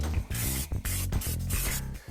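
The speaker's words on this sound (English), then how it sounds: "spray that bad boy down for a final cleaning" Aerosol brake cleaner sprayed over freshly installed PowerStop brake parts and caliper on a Jeep Wrangler JKU, a loud, close hiss in several long bursts separated by short pauses.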